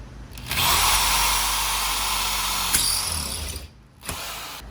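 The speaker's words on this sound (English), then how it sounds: "I'm going to start drilling out some more." A power drill drills out rivets during demolition work, a loud sustained whine that runs for about three seconds, dips briefly, then starts again with another short burst.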